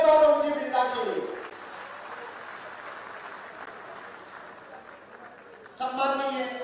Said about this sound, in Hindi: जोरदार तालियां एक बार ओम जी बिरला के लिए